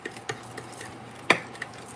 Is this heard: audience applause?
no